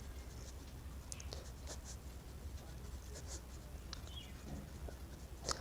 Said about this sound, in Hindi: तो यहाँ पे लिखेंगे जान के कंचों की संख्या